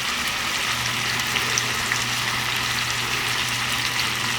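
Potatoes browning in a pan over high heat give off a steady, even sizzle with a faint low hum underneath, close and unbroken throughout.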